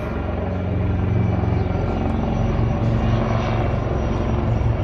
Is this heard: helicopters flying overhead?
yes